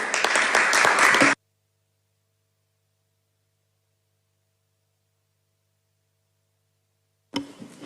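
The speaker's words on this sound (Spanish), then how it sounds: "le damos un fuerte aplauso" Applause at a convention: a short, dense burst of clapping cuts off abruptly into near silence, then a brief noisy burst returns at the very end.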